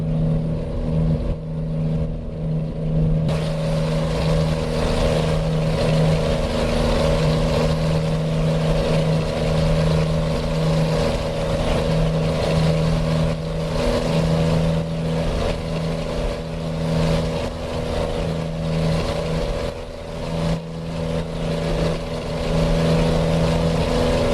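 A heavy truck hauling a 100-tonne load in American Truck Simulator cruises down a long straight, its engine holding a steady, loud low drone with no talk over it.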